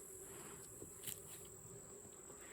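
Honeybees hum inside an opened backyard beehive during Apivar strip removal and feeding, a faint steady buzzing drone with occasional brief louder passes of individual bees, no one speaking.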